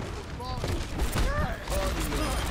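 Gunfire in the video game Overwatch comes as a rapid, loud burst of shots throughout, mixed with game sounds and voice-like tones.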